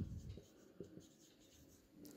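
A pen scratches softly across paper in short strokes, close by and very quiet, with a low murmur underneath.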